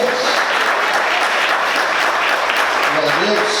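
A church congregation applauds during a sermon, loud continuous clapping mixed with voices and cheering throughout.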